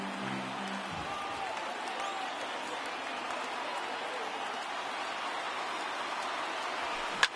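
A stadium crowd of more than 39,000 roars on its feet at a Yankees–Dodgers baseball game in 2019, a broad, steady wash of cheering that holds loud and even throughout, with a brief sharp sound near the end.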